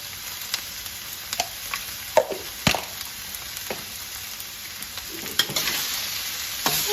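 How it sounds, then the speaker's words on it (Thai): Mixed vegetables with shrimp, seasoned with fish sauce, oyster sauce and sugar, are stir-fried in a pan: a steady sizzle broken by scattered spatula scrapes and taps, close and fairly quiet, no one speaking. "ผัดค่ะให้เขาเข้ากันค่ะ"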